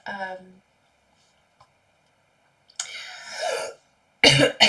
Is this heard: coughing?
yes